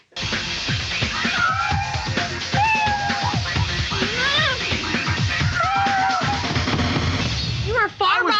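A cat on the Kitten Warrior show meows repeatedly, giving clear rising and falling cries one after another over a busy background with some talk.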